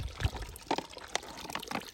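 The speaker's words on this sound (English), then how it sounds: "It is literally a hole in the wall of rock with water just squirting out." Spring water squirting from a hole in a rock wall fills a water bottle, a close splashing trickle with a few brief louder gushes and no talk.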